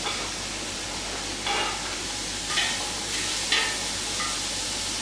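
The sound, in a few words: carrots and onions sautéing in a pan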